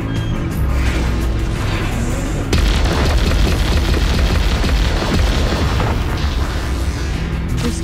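A sci-fi space battle in which a spaceship's weapon scores a hit and sets off a huge, sustained roaring explosion, a loud rumbling boom that swells midway and stays dense to the end.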